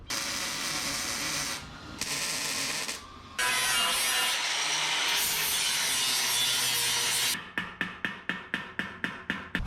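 A flap disc grinds over a bead rolled metal tub for a 1977 Datsun, a harsh continuous abrasive rasp in bursts with short pauses, then ending in a quick series of rhythmic scraping strokes, close and loud.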